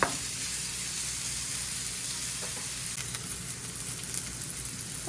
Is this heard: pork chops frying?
yes